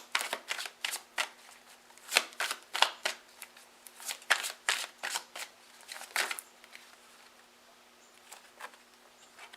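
A deck of cards riffled and shuffled repeatedly at close range, a quick run of sharp papery bursts in an irregular rhythm, trailing off toward the end with no talk.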